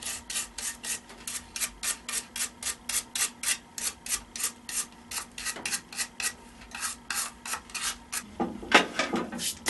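Sandpaper rubs across a wooden tree root centerpiece near patches of moss, about twenty quick, even back-and-forth scraping strokes up close, loosening into rougher rubbing at the end.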